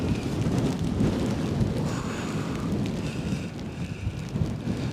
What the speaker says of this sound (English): definitely too windy for fireworks today, Keith Cornell.